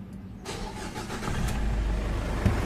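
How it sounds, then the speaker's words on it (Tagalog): A car engine that had been spitting a little oil cranks and catches in a mechanic's workshop, then settles into a steady idle that grows louder and fuller, close by with no talking. "Start ko na itong makina."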